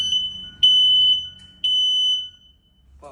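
A household smoke alarm sounding during a test, two loud, piercing electronic beeps about a second apart, each held for roughly half a second or more, close by, with a faint clatter at the end.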